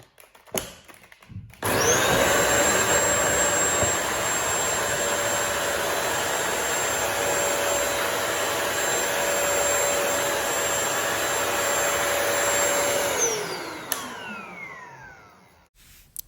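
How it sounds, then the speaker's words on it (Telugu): A wet-dry floor-cleaning vacuum runs its brush self-cleaning cycle, giving a loud, steady high-pitched motor whine with a whooshing roar. It holds for about eleven seconds, then spins down, and no one talks. "సేమ్ అలానే స్విచ్ స్టార్ట్ చేస్తే బ్రష్ క్లీన్ అయిపోతుంది"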